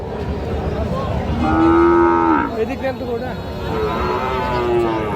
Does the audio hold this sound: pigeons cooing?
no